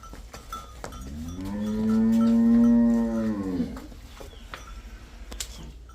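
A cow on a farm where cattle are sold gives one long, loud, close moo that swells and fades over a couple of seconds, with quiet farmyard background before and after.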